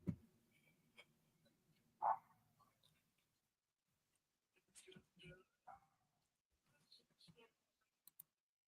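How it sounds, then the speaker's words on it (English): A dog barks from upstairs in a quiet house, a few sharp, distant barks heard between stretches of a man's speech and light clicking. "dog's just up there barking his little head off"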